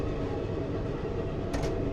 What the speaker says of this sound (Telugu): మన ట్రైన్ వాణియంబాడి క్రాస్ చేస్తుందండి